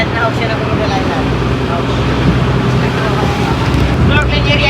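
Strong ocean waves and rushing wind surround a paraw sailboat off Boracay, with constant loud water churn and heavy wind buffeting on the microphone, and a voice speaks faintly beneath the roar.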